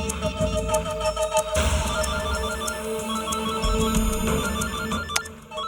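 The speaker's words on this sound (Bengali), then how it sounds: "ফোনটা তোল।" A telephone rings with a steady, repeated electronic tone pattern, fairly loud and continuous over a busy dramatic background, stopping near the end.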